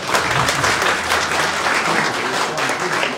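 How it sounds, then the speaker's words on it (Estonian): An audience at a support event gives a big round of applause, dense continuous clapping that stays loud and even from start to finish, with no voices over it. "Teeme tänu suur aplausi."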